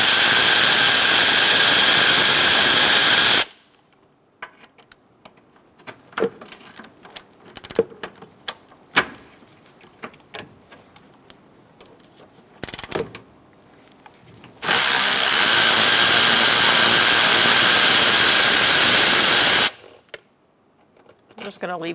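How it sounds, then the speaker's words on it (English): Power tool bursts loosen bolts on a 2002-2006 Toyota Camry, with two long loud whirring runs separated by quieter clinks and handling noises in between. "Now we're going to take out 1, 2, 3 bolts to remove this bottom half."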